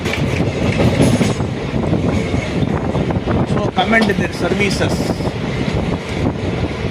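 A passenger train runs on its rails near Thiruverumbur station in foggy weather, a steady loud rumble of wheels and carriage noise throughout, with someone talking over it.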